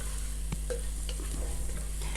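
Curry powder is stirred into frying chakalaka vegetables, with soft scraping strokes and clicks of a spoon against the pan over a low steady sizzle.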